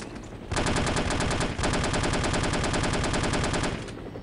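Sustained automatic fire in the video game No One Lives Forever, a fast, even stream of loud close bursts with a brief gap near the start, running steadily and alone with no talk.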